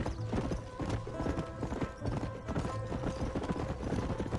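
Horse hooves clip-clop steadily in the Western video game Red Dead Redemption, a continuous rhythmic trot over a dense ambient background with a faint whinny mixed in.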